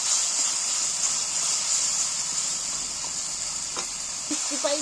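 Spice masala sizzling and frying in a pan for an egg dish, a steady close hiss with soft stirring scrapes near the end.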